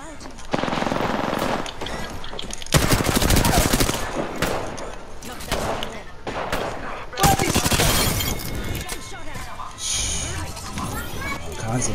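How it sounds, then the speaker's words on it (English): Rapid bursts of gunfire from a shooter video game, loud and near, with machine-gun volleys and single shots in clustered rhythms, mixed with talk. "Is that somebody just shot at you?"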